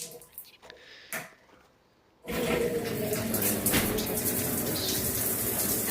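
Shower water pouring steadily and loudly in a newly built bathroom, a dense continuous hiss and spatter that starts abruptly after a quieter stretch of small knocks and clatter.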